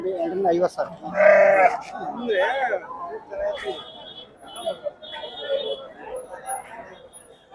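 Sheep bleat several times, loud and close, with one strong wavering call near the start, amid chatter and voices at a sheep and goat market in Kadur, India.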